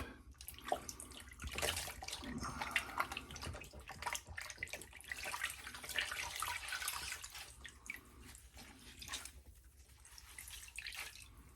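Tap water runs and splashes steadily while a face is rinsed after a straight razor shave, with irregular splattering and dripping at a soft, close level. No one speaks.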